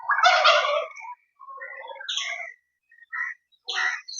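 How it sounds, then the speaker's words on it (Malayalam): Turkeys in their coop gobble and call, a loud burst of gobbling first, then shorter rapid chattering calls broken by brief pauses, close by with no talk. "ഈ സൗണ്ട് എടുക്കുന്നത് നമ്മുടെ കൂട്ടിലുള്ള ടർക്കികളാട്ടാ"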